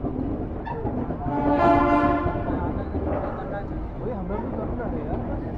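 Telangana Express rumbling into Mathura Junction, a steady train roar swelling to a loud peak with a brief horn-like tone midway, then settling, with people talking nearby throughout.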